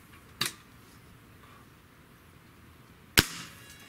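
Two sharp cracks from a Hatsan Mod 135 QE Vortex .30 caliber breakbarrel air rifle, spaced about three seconds apart, the second louder and closer, each a brief snap over quiet outdoor background.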